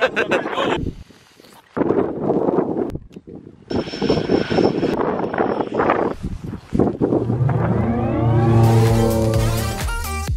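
A Eurocopter EC-120 helicopter engine spooling up on the ground in the Arctic, a rising turbine whine building to a loud steady roar with wind noise.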